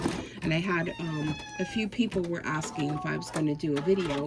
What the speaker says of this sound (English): She's just screaming for attention